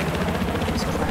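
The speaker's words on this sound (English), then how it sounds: "There's an enemy helicopter in east of your position." An enemy attack helicopter in the Battlefield 4 multiplayer beta gives a steady low rotor and engine drone, continuous and fairly loud through the whole moment, with a player talking over it.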